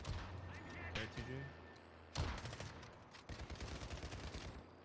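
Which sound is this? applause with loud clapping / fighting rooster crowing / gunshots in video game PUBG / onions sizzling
gunshots in video game PUBG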